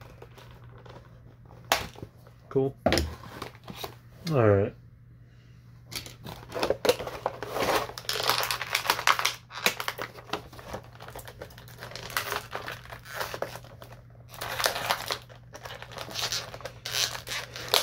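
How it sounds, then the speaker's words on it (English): Scissors snip twist ties on toy packaging among crinkling plastic and cardboard, with sharp clicks and rustles close by in irregular bursts, and someone speaks a couple of short words. "Twist ties be damned. I have scissors."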